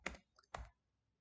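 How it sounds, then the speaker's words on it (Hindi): Two quick, faint clicks from a computer keyboard being typed on during a coding session, close but very quiet in an otherwise silent room. "पहले थोड़ा सा टाइप आउट करने दो मेरे को"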